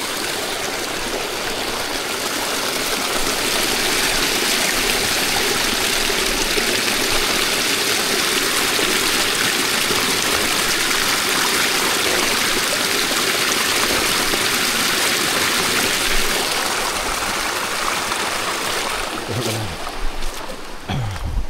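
A jungle stream flows steadily along the Gunung Tahan trail, its broad rushing water loud and constant throughout with no voices over it.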